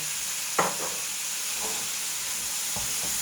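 Yakisoba noodles stir-fry with sauce in a hot pan, giving a steady sizzle and hiss broken by a sharp scrape near the start and a few softer stirring scrapes later.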